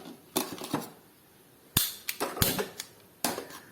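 Sharp clicks from a gas stove lighter come in small irregular bursts, fairly faint against a quiet room.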